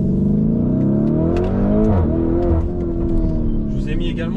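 A Lamborghini Urus Topcar in Corsa mode revs hard and accelerates, its engine note climbing steadily through the revs as one loud, continuous, close-up roar with a brief dip partway through.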